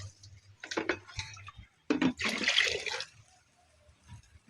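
Stored meat broth is poured into a pot of pilau in a Kenyan village kitchen, heard as a few close, splashy liquid pours with short pauses between them, quiet and without talk.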